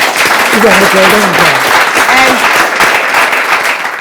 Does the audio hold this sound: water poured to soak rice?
no